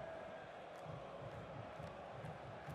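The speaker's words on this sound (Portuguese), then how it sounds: "Escuta só a torcida fazendo a parte dela para ajudar a confirmar a vitória, Caio." A stadium crowd in the football video game FIFA 20 roars steadily throughout, a broad continuous wash of cheering and chanting with faint rhythmic low pulses, no commentary heard.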